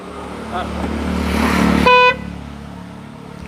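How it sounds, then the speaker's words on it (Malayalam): A single short electric car horn honk sounds over a running engine's rumble, then the engine keeps idling on its own. "ഇലക്ട്രിക് ഹോൺ തന്നെയാണ് അല്ലേ"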